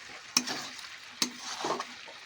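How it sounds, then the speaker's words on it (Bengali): Chicken curry masala being stirred and fried in a pan with a spatula: steady sizzling broken by two sharp scrapes of the spatula against the pan and a softer stirring swish toward the end. "ভালো করে খুন্তি চালিয়ে চালিয়ে কষতে হবে।"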